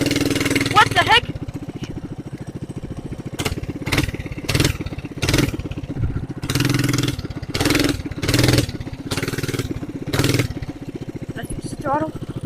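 A Coleman BT200X mini bike's small engine idles with a rapid, rattling putter, then revs in about eight sharp, loud throttle bursts with idle between them.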